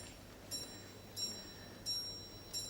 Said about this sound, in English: you can hear the bell now, it's come back